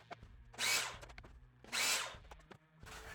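A miter saw cuts wooden fence pickets in two separate bursts of roughly a second each, with short pauses between them. The cuts sound close and loud against a quiet workshop.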